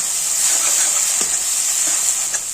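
Ground turmeric root frying in melted ghee in a pan, a steady bright sizzle that holds at an even level throughout, with faint scraping stir strokes underneath.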